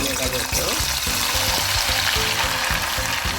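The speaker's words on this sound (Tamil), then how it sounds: "இதை இனி பொரிக்க போகிறோம்." Steady hiss of frying in hot oil fills the clip, with a voice talking over it throughout.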